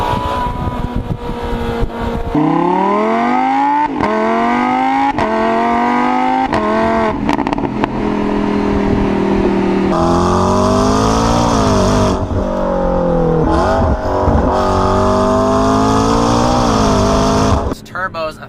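A turbocharged McLaren 650S engine revs repeatedly, its exhaust note rising and falling through gear changes in loud, close pulls with brief dips between them, ending in a sharp cutoff.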